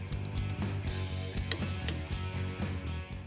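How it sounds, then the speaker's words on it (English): A ratchet clicks as socket head cap screws are torqued down on a Chevy 292 straight-six engine build, giving close, busy mechanical ratcheting with a couple of sharp metallic pings over a steady hum. "There are 3 socket head cap screws that will get torqued down in the same sequence as the head studs."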